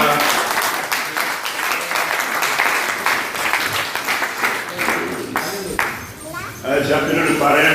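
Applause at a church ceremony handing over a motorcycle to pastors: continuous crowd clapping with sharp, rhythmic claps, some cheering voices mixed in, easing briefly before swelling again at the end.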